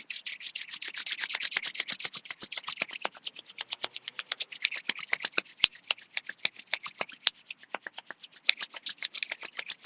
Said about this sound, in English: Bring your hands together in front of a heart. And then rub them together.